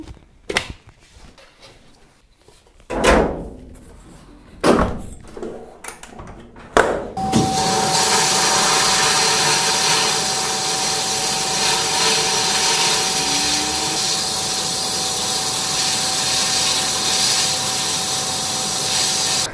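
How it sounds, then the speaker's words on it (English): Media blasting strips a helmet shell, heard as a steady, loud broadband hiss that starts partway through and runs continuously to the end, after a few scattered knocks and handling sounds. "Or we can do my favorite, media blasting"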